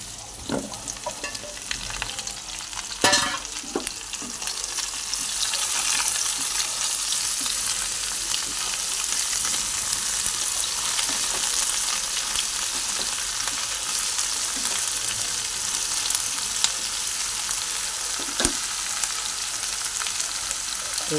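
Potato stalks and other vegetables fry steadily in a pan for a hilsa fish head and Malabar spinach dish, giving a continuous close sizzle with a few sharper crackles and stirring scrapes and no talk.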